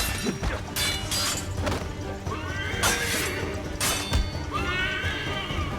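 Horse in the video game Assassin's Creed 3 whinnying several times over game combat, with clip-clop hooves, thuds and clashing impacts around it, fairly loud and close.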